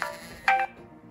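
Ringtone playing from a Nokia N96 prototype phone from 2008: a short electronic melody with a few bright tonal notes over a faint background, heard close up with no talking.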